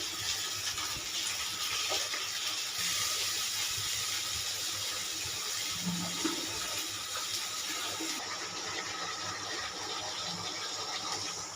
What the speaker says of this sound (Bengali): জল দিয়ে দিলাম। কচুতে একটু বেশি জল দিতে হয়।